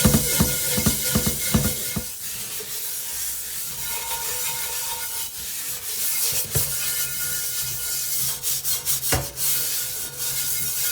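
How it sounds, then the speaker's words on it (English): Cast iron pans scrubbed vigorously with Barkeeper's Friend, a steady close abrasive rubbing with rhythmic back-and-forth strokes and occasional sharp scraping knocks. "vigorously scrubbing them off with Barkeeper's Friend"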